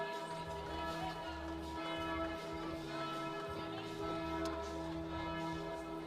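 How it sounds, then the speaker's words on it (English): Church bells ringing loudly in Graz at midday, a continuous layered tolling with sustained ringing overtones over background crowd and music at an outdoor climbing competition. "the bells from the church running really loud here"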